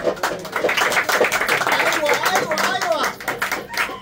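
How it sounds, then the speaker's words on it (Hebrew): A crowd claps along at a lively Jewish music gathering, steady hand claps mixed with voices singing and talking over the top. "איפה המחיאות כפיים?"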